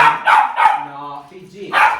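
Dog barks repeatedly at a party, several short loud yaps in quick succession with a brief pause before a final bark, close to the listener with faint voices underneath.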